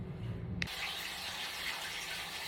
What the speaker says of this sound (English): now we're beginning to fill his pool back up